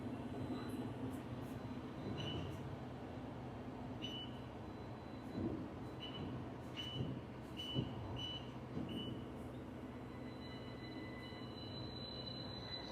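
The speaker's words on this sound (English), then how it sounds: "I wonder why it was doing all that beeping." At an automated port container terminal, repeated short high reversing beeps sound at a distance under a steady low rumble of heavy machinery, coming in irregular bursts.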